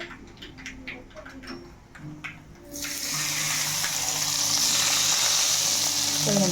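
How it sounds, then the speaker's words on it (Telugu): Tempering for gongura roti chutney sizzles in a pan, bursting into a loud, steady frying hiss about midway and holding strong to the end after quieter kitchen clatter. "ఇదిగోండి ఇప్పుడు మనకి తాలింపు అయితే రెడీ అయిపోయింది"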